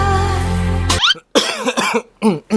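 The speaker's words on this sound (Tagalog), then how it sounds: "Actually, medyo may ubo pa ako ngayon." A sustained tone cuts off into a few harsh, throaty coughs in quick succession, loud and close, with brief silences between them.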